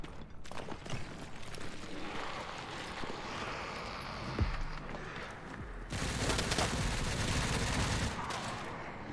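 Gunfire from an enemy gunner in the video game Resident Evil Requiem, a sustained crackle of rapid shots with a sharper hit midway and wind-like rushing throughout, loud and close.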